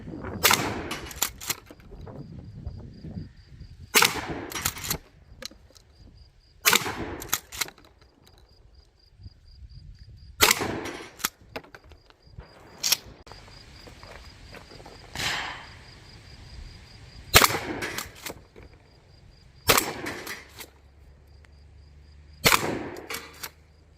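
Remington 870 Wingmaster 12 gauge pump shotgun fired outdoors, about eight loud, sharp blasts spaced several seconds apart, with insects chirping in the quiet gaps.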